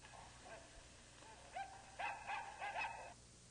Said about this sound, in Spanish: En 1940 se le adjuntó a Electro un fiel perro llamado Sparko.